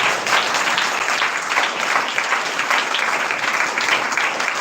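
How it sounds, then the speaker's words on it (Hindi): Steady, dense applause from a congregation at a Sunday prayer meeting fills the space, many hands clapping continuously at an even level without pause. "ताली बजाओ परमेश्वर को।"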